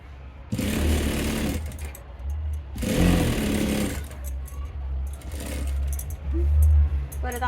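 A sewing machine stitches handles onto a cloth bag, whirring in three separate bursts of rapid, rattling stitching with short quiet pauses between them.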